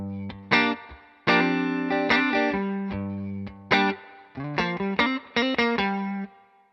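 A Stratocaster electric guitar on a clean tone, with the tone knob turned slightly down, plays a loose phrase of ringing chords and single notes, some sustained and some clipped short, with no talk.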